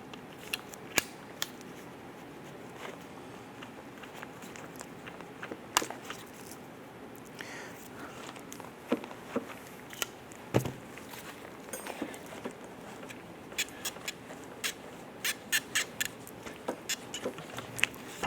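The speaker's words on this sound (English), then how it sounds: "Using a pair of pliers, I'm going to release this hose clamp here." Pliers release a hose clamp on the throttle body of a 2005-2007 Ford Five Hundred, giving sparse, sharp metallic clicks and snips that grow busier toward the end over a quiet background, with no talking.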